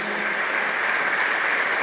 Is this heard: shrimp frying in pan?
no